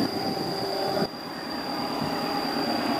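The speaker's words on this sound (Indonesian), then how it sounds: "Kereta api Sawung Galih baru saja melintas." The Sawung Galih passenger train rolls past on a climbing, curving stretch of track, a loud continuous rumble with a high steady wheel whine that dips briefly partway through.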